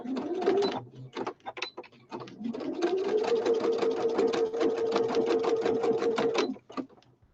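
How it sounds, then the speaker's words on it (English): A sewing machine straight-stitches across fabric for a machine cover, starting with a few short stop-start bursts and then running in one long, steady, close whirring stretch before stopping near the end. "Right, I'm going to straight stitch now all across here."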